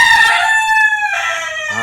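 A rooster crows once, loud and close, in a long drawn-out call that rises and then drops in pitch, heard alone with no talking.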